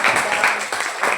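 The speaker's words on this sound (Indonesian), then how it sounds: "tepuk tangan." A high school class applauds after a group presentation, a short burst of dense clapping from many students throughout.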